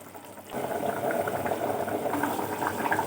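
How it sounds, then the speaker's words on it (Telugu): Fish curry bubbles in a pot, a close steady burbling simmer that starts abruptly and continues evenly with soft popping bubbles. "చూడండి, ఇది ఇలా మరుగుతుంది"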